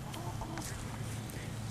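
Two chickens clucking softly nearby in a garden in the rain over a steady background hum, with a few short, scattered calls and no talking.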